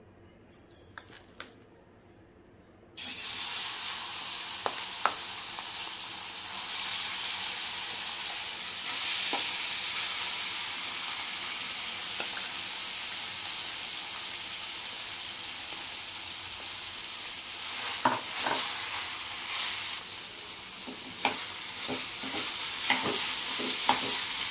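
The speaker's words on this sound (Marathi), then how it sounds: "आता तूप गरम झाल्यानंतर आपण हे मॅश केलेली जी रताळे आहेत ती टाकूयात आणि व्यवस्थित परतून घेऊयात।" Mashed sweet potato fries in two spoonfuls of hot ghee in a pan while being stirred. After a quiet start, a steady close sizzle runs throughout, with occasional scraping clinks of the spoon.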